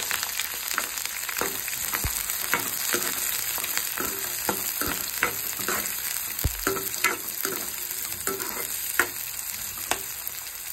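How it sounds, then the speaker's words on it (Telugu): Onions and green chillies frying in hot oil in a pan, a steady close sizzle broken by sharp spatters and scraping stirs at uneven intervals, no voices. "ఒక ప్యాన్లో ఆయిల్ పోసుకొని ఆయిల్ వేడైనాక ఉల్లిగడ్డ పచ్చిమిరపకాయలు"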